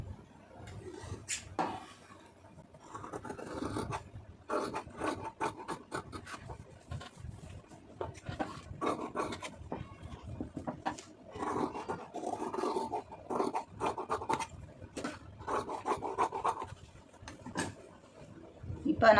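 Scissors cut through blouse fabric in short, quiet snipping and rasping strokes that repeat irregularly, close and soft, with no talk over them.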